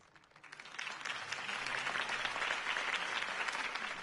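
Crowd applause after a mayoral campaign speech, swelling quickly from quiet into a broad, sustained wash of clapping heard at some distance.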